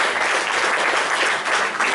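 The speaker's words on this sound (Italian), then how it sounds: "chiederei un applauso anche per lui." An audience in Florence applauds during a debate on constitutional reform, with a broad, even roar of many clapping hands, continuous and moderately loud for the whole brief stretch.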